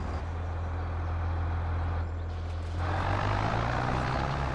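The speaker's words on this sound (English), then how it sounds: "I should start the engine first." A farm vehicle engine idles steadily in the Farming Simulator 22 video game, a constant low droning rumble with a slight shift in tone partway through.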